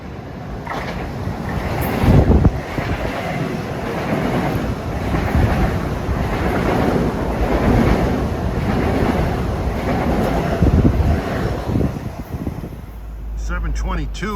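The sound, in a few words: LIRR train 2012 from Grand Central to Ronkonkoma passing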